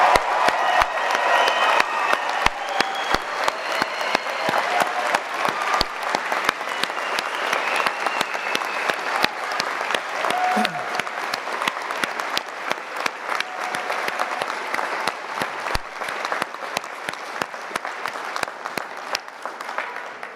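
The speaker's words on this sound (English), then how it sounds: "join me with a huge round of applause, congratulating our graduates of" Sustained applause from a large audience at a university convocation ceremony for 2024 graduates, dense steady clapping filling the hall for about twenty seconds, loud and even, with a faint murmur of the crowd beneath.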